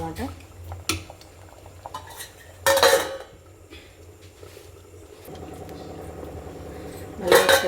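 A spoon clanks against a steel pot while ridge gourd dal with tomato is stirred, sharp metallic knocks and scrapes in short bursts over a low simmering background.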